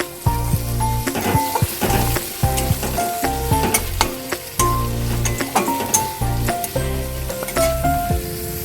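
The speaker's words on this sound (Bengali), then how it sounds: "এবার পেঁয়াজটাকে ভেজে নেবো মিডিয়াম টু লো ফ্লেমে" Finely diced onions fry on a medium-low flame for cauliflower manchurian. The sizzle and stirring sit under prominent rhythmic background music.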